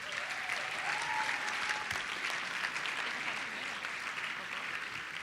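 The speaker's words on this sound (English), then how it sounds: "Could we hear a round of applause for them as well?" A crowded hall at a Model UN opening ceremony gives a sustained round of applause, an even, dense wash of clapping lasting throughout without a break.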